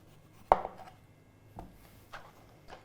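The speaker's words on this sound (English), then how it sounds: "I'm going to use my knife to just sort of like cut around it in a circular motion." Root vegetable being cut with a knife in a kids' cooking class: one sharp, close chop on the board, followed by three softer, spaced cuts on a quiet background.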